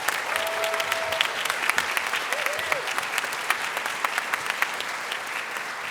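Sustained applause from an audience at a university staff service and excellence awards ceremony, honoring award recipients; dense steady clapping with a few scattered cheers, loud and continuous throughout.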